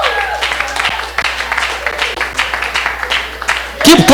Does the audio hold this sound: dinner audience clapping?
yes